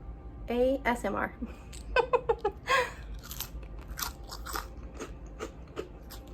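Crispy potatoes are bitten for an ASMR test, giving several sharp, close crunches in quick succession, then quieter chewing and crackles. A voice speaks during the bites.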